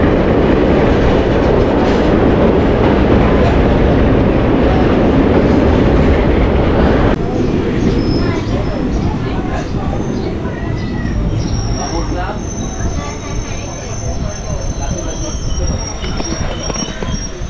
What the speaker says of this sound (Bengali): five 3055 Katwa Ahmedpur passenger train তার প্রথম 3 কিলোমিটার অতিক্রম করে চলে আসলো তার প্রথম স্টপেজ নবগ্রাম কাকুরহাটি স্টেশনে